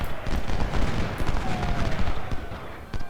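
Rapid booming gunfire from 12-pounder cannons in Ultimate General: Civil War, a dense, loud barrage of overlapping blasts with battle noise.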